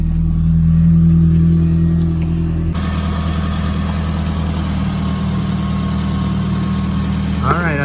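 Car engine idling after a slow start on a weak, aging battery, a steady loud low rumble that shifts to a rougher, busier idle partway through and runs on alone.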